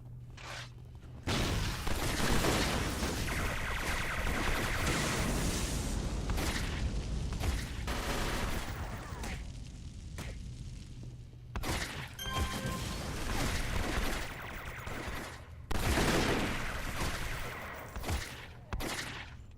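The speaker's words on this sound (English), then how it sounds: "I still can't get over Woody having machine gun revolvers." Machine gun revolvers firing in City of Heroes, long rapid bursts of gunfire with booms and mechanical clatter, broken by brief pauses between volleys.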